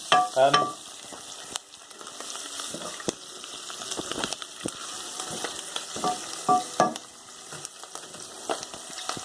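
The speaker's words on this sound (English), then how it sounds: "There's stuff popping in my pan." Foraged mushrooms, chillies and garlic frying in a pan, a close steady sizzle broken by scattered sharp pops and crackles and a few scraping stirs, with no voices.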